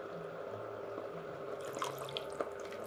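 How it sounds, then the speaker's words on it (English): Water splashes and drips into a pot of chili being cooked over high heat, a soft irregular trickle with a few brighter drops near the end, faint and close. "basically cover this whole thing in water"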